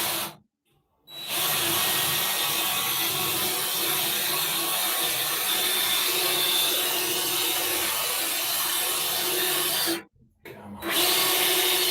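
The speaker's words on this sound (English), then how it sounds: "That's why I really like this drill" A power drill bores into a boat's wooden engine bearers, running loud and steady for about nine seconds after a short pause, then briefly stopping before whirring up again.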